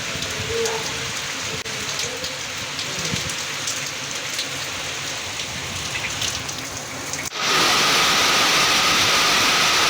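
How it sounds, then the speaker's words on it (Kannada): Rain falling across the Malnad region of Shivamogga district, a steady hiss of drops on surfaces that runs continuously and swells noticeably louder and denser near the end, with no voices. "ರಾಜ್ಯದ ಹಲವಾರು ಕಡೆ ಉತ್ತಮ ಮಳೆಯಾಗ್ತಾ ಇದೆ"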